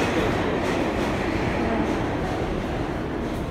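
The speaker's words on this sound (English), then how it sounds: "what was that train above us?" Subway train on an elevated track above a station platform at 125th Street, a loud continuous roar of wheels and cars rumbling overhead without a break.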